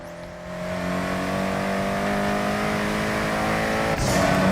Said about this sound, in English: Car sounds like a car.